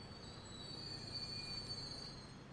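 A 17-car freight train rolling along in the video game Transport Fever 2, wheels squealing with a thin, high whine over a low rumble, steady and moderately quiet.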